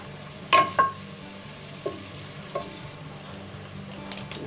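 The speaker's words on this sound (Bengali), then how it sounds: "এবার এটাকে একটু ভেজে নিব।" Whole cinnamon, cardamom, black pepper and torn bay leaves sizzle softly in hot oil in a pot for beef nihari, a low steady frying hiss broken by a few sharp clinks of a stirring spoon.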